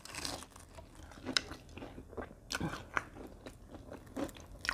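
Crispy batter-fried durian is bitten and chewed up close, with soft crunches and wet chewing repeating at an irregular rhythm, fairly quiet.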